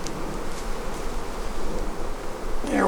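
Carniolan honeybees buzz around an open hive in a bee yard, a steady dense hum with brief louder passes of individual bees near the end, no talking.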